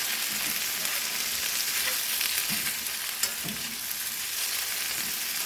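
Steady, dense sizzling of patties frying in oil, with faint scraping and soft stirring sounds underneath.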